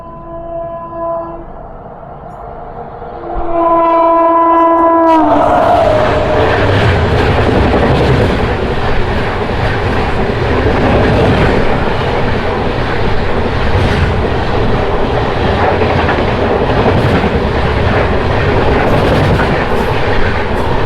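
At a railway station on the Guntur to Vikarabad line, two horn blasts sound before a train thunders past close by with a loud, sustained rumble and wheel clatter.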